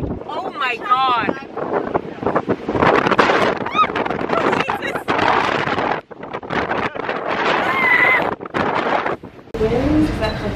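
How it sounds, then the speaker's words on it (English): Strong wind batters the microphone outdoors in South Africa, a loud continuous rumbling roar with brief gaps, while people talk and exclaim over it. "Oh, it's so windy."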